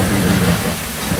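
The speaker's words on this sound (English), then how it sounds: "That's real rain. That ain't no rain machine." Steady broadband hiss of real rain falling outdoors in Huntsville, a continuous dense wash with low rumbling underneath, loud and close, with no voices over it.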